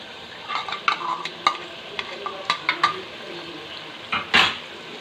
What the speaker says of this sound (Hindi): दही ऐड करने के बाद अच्छे से हम भून लेंगे अपने मसाले को